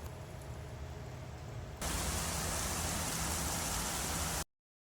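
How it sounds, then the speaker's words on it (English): Steady rain during a thunderstorm outdoors, a soft hiss that jumps to a loud, dense downpour roar partway through and then cuts off abruptly; no voices. "it's thunderstorming outside"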